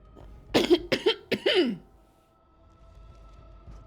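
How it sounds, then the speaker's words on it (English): A series of three or four quick, harsh coughs close by, followed by quiet room tone. "Excuse me, I need to cough."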